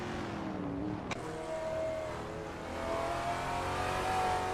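Race cars in a video game race drone steadily with sustained engine tones that rise slowly in pitch, and one sharp brief click cuts through the constant motor noise.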